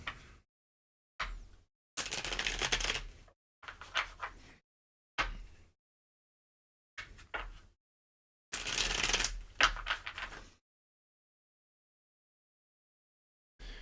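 Tarot cards handled close up, with bursts of rustling, riffling shuffles and brief flicks and taps of cards being drawn, separated by silent gaps and with no talk.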